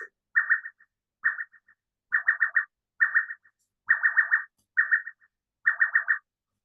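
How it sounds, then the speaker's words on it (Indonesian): A gate alarm sounds in seven evenly spaced groups of rapid, shrill electronic beeps, each burst lasting about half a second with short silences between, and no one speaking. "Ada alarm di portal barusan."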